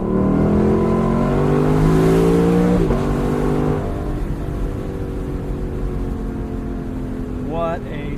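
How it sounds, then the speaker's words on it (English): A loud Lexus engine revs and holds a steady exhaust roar, with pitch sweeping up through gear changes before dropping back to a lower drone. "What an exhaust."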